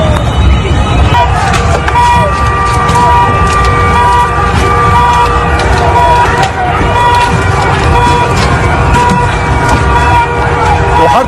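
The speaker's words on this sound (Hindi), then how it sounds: "हर तरफ सायरन की आवाज" Loud emergency sirens wail through a busy street, with steady wavering tones layered over traffic rumble and crowd noise.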